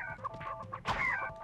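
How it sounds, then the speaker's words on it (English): Chickens in the video game Ratchet & Clank cluck close by in a quick run of short, throaty calls, a louder squawk rising in the second half over quiet background. "Why are there chickens in here?"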